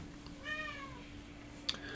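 A pet cat lets out a single drawn-out meow, fairly close, with a faint steady hum behind it and a brief click near the end.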